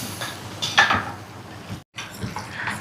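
Onion and tomato paste going into a cooking pan, with clinks and scrapes of a utensil against the metal and a low frying background, heard close, followed by a brief drop to silence before the clatter resumes.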